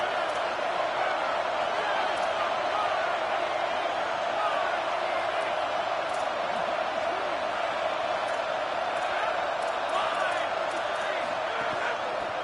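A large video game stadium crowd at a college football game roars steadily at a distance, a dense wash of voices with occasional louder shouts rising out of the din.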